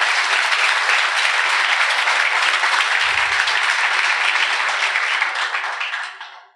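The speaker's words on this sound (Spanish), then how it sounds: "Dar un aplauso al Señor fuerte el día de hoy." Church congregation applauding loudly during a sermon, a dense, steady wash of clapping from many hands that carries on for several seconds and then fades out at the end.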